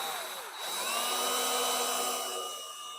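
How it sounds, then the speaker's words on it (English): A drill boring a series of holes in metal on a 1962 Ford Falcon all-wheel-drive build: a high, steady whine that spins up after a brief dip and holds close and loud, with no speech. "I'm gonna drill a series of holes, old school way"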